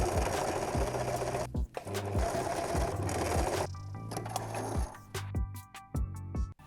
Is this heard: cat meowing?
no